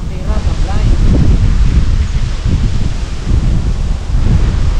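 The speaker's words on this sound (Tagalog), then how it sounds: "Ayun na kasi ang hangin yan." Strong wind blows steadily over an outdoor microphone, a loud, continuous rumbling gust with surging peaks, and people talk briefly over it.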